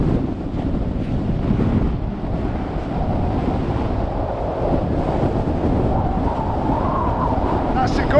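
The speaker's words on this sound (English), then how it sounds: "That's the gust I was talking about." A strong winter wind gust roars across a mountainside at Red Tarn, a loud, continuous buffeting rumble that swells and stays heavy throughout, battering the microphone with no voices.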